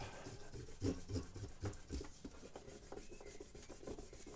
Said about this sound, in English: Now, I'm just rubbing this out